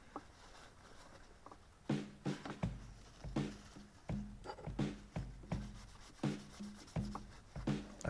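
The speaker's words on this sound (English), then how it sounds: "I'm just going to give those a quick rub down with some acetone." Metal toy-car castings being rubbed down with an acetone-soaked cloth before powder coating, giving a run of rhythmic scrubbing strokes, close and moderately loud, with no voices.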